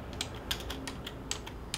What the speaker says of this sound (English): uses a specially designed ring to type on the keyboard